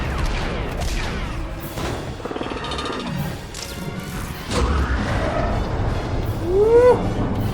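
Shotgun gunfire during a battle in the animated series Star Wars: The Clone Wars, with loud bursts and crashes mixed into dense action sound effects and music throughout.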